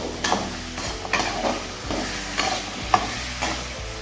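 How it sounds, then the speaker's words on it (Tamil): Ginger and garlic sautéing in a pan for a chicken gravy, with repeated rhythmic spatula strokes scraping over a constant close frying hiss and no voices. "இஞ்சி பூண்டு போட்டு வதக்கிக்கலாம் நல்லா வதங்கட்டும்"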